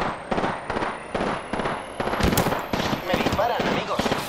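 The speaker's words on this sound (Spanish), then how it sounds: "Me disparan, amigos." Apex Legends gunfire crackles in fast, repeated automatic bursts over a dense battle din, loud and close, with a game voice speaking intermittently.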